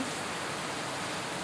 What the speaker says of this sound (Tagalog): ang lakas ng ulan dito sa amin. Gawa ng bagyong Ramil.